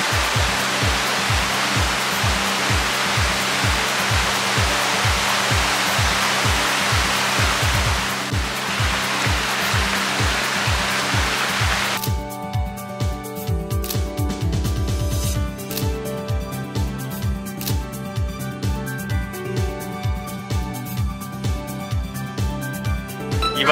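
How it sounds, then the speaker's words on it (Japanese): A mountain stream in Oirase Gorge, Aomori, rushes loudly and continuously through the first half, a dense close wash of water before the sound changes abruptly midway. "なんか川のせせらぎが半端ない感じですね。"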